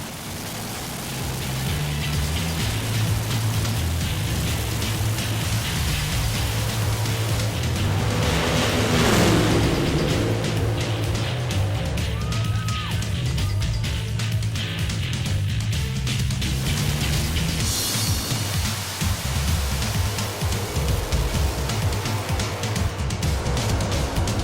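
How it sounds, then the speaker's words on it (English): A loud, roaring nitro altered drag car engine drones steadily at a distance at a drag race, its pitch rising and falling as it runs, blending into a wash of broad noise. "How about some Nitro altered action?"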